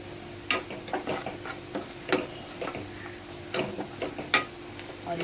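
Asafoetida being fried in hot oil for spinach dal, with a soft ongoing sizzle and a few sharp clicks and scrapes from stirring the pan, fairly quiet and close.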